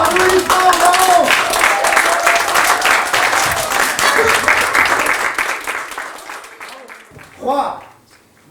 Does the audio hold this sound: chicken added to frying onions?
no